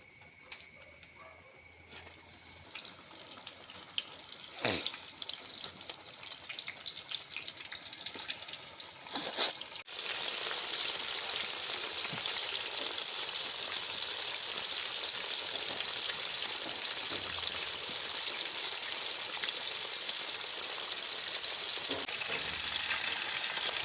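Broasted chicken frying outdoors in hot oil, a constant dense sizzle that grows louder and fuller partway through as more goes in, with a few clanks and outdoor background noise and no talking.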